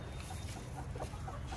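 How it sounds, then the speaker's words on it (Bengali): A rooster clucks quietly among farm fowl, a few faint, short clucks set against soft outdoor background noise. "কিরে মোরগ, তোর কি খবর?"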